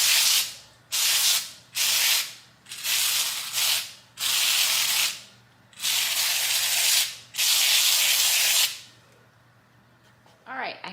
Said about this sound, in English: I am going to try to start painting this